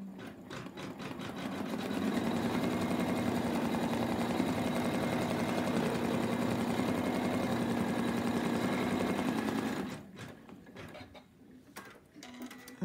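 An embroidery machine stitches the placement outline on fabric for an in-the-hoop mouse toy, a steady rapid mechanical whir that ramps up, runs evenly for several seconds, then stops, leaving quieter clicks and handling sounds.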